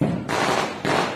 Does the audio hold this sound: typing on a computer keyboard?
no